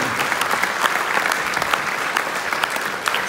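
An audience at a high school choir Christmas concert claps steadily, a dense continuous patter of applause with no pauses throughout.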